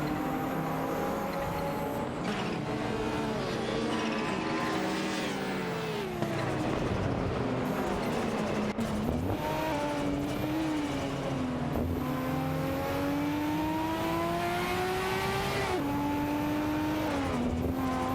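Race cars in a racing video game, including a Mercedes-Benz 190 Evo II and a Maserati Ghibli, engines whining steadily and rising through gear changes, loud and continuous, with revving swells and no talk.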